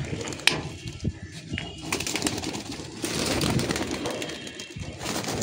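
Domestic pigeons are released from a cage and take off outdoors, with wing flaps and soft cooing among busy background noise.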